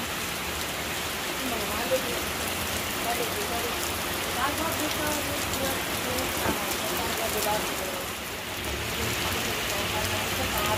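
Steady rain falls in Mabinay, Negros Oriental, a dense, even hiss of drops pattering on surfaces that stays constant throughout without any clear voices.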